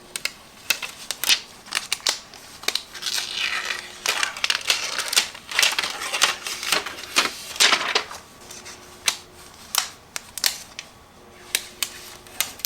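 Siser Brick 600 heat transfer vinyl being peeled off a shirt, a series of crackly, papery tearing and snapping bursts at an uneven pace, close and fairly clear with no talking.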